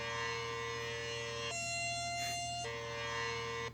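A single-tone tornado siren sounds one steady, sustained pitch that briefly steps higher mid-way, then settles back, droning on alone.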